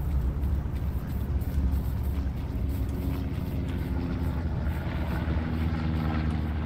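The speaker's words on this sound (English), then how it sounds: "That is an enemy recon plane." An enemy recon plane drones overhead in the World War II shooter Hell Let Loose, a steady loud propeller-engine roar that holds throughout with faint battlefield ambience beneath.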